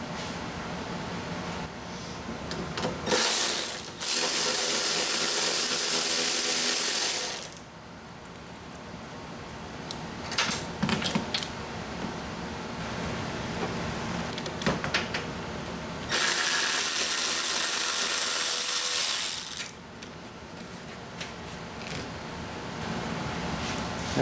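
Nuts come off a Honda Civic front strut mount in two loud bursts of a tool's high whine, each lasting several seconds. Between them are quieter metallic clicks, rattles and ratcheting.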